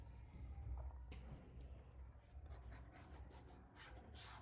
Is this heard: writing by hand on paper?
yes